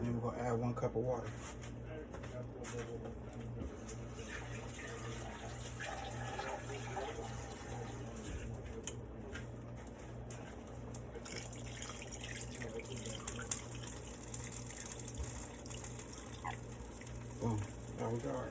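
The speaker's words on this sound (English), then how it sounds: "And then we're gonna add 1 cup of water." One cup of water pours into an oven dish of sticky rice with broth, a soft continuous trickle over a low background hum while someone talks nearby.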